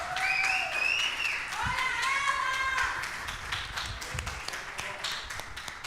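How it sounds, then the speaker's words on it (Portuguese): Applause from a church congregation honoring the women on International Women's Day, a steady wash of clapping throughout with some voices and whoops rising over it. "dá uma salva de palmas para as nossas mulheres maravilhosas"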